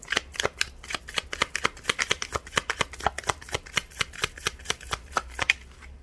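Tarot cards being shuffled by hand, a fast even run of crisp riffling slaps and flutters, close and clear with no talking.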